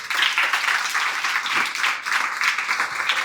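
A group of children clap together at a charity snack-sharing event, a sustained burst of dense, fairly loud applause with a faint voice or two underneath.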